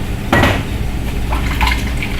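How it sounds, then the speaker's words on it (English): Water splashes into a blender jar with a brief clatter at the start, followed by soft trickling and light knocks of the container; no talking. "I'm just going to put a little bit of water in to get all the good stuff out of the blender."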